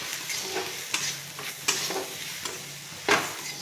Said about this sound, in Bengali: দেখুন মশলা আমার প্রায় ভাজা হয়ে গেছে।